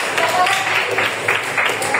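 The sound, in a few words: audience clapping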